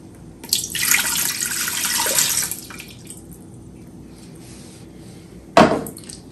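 Two cups of water pour into a Ninja Foodi Deluxe pot in a brief splashing stream lasting about two seconds, followed by a quiet pause and a single sharp knock.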